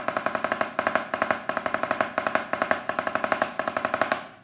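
A snare drum is struck loudly in fast, even groups of strokes, with rhythmic bursts repeating in a steady pattern before a brief ringing decay; played close and alone, with no talk.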